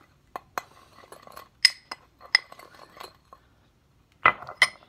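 A spoon clinks and scrapes against a dish while stirring cocoa powder, a blend of two chocolate powders, with a small amount of vanilla extract: scattered, irregular metallic taps, fairly close.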